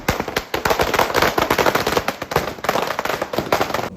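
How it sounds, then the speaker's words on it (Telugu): Diwali firecrackers known as vankaya bombs explode in a dense, rapid barrage of loud cracks and bangs, closely overlapping like continuous gunfire, with no speech. "మా నాన్న నాకన్నా ధైర్యంగా వంకాయ బాంబులు ఎట్టబడితే అట్ట పేలుస్తున్నారు"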